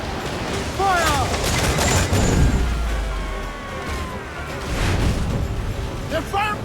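Ship cannons booming in Assassin's Creed IV: Black Flag, a volley of heavy low blasts rolling out around the two-to-three second mark and again near five seconds, with shouting crew voices and game music over the battle.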